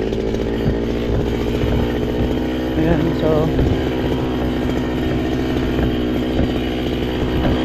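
A grass cutter runs steadily in a farm field, a continuous loud buzzing engine drone throughout with brief talk over it.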